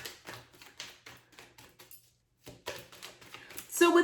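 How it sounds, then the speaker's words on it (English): Tarot cards being drawn and laid out on a surface: a run of light, crisp taps and slaps in quick irregular rhythm, a brief quiet gap, then more shuffling card sounds, close and moderately loud. "I'm just trying to get the cards, as many cards out."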